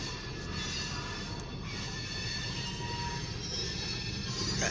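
A short freight train of two tank cars and a hopper rumbles past up close, a steady broadband roar of wheels and cars that swells slightly toward the end, with no talking.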